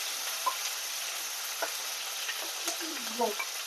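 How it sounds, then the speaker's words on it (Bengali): Chopped onion fries in hot oil with a steady, fairly quiet sizzle and occasional light pops and ticks, continuous throughout. "তেলটার মধ্যে যে পেঁয়াজ দিয়েছি না"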